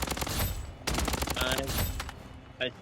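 Rapid automatic gunfire in the Blood Strike shooter game, dense bursts running nearly throughout with a brief pause, then a short sharp effect near the end, over game sounds and no clear talk.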